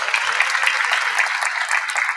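Applause from an audience at a university Founders' Day convocation, steady close clapping from many hands throughout.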